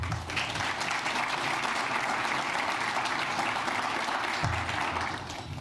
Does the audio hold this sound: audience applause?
yes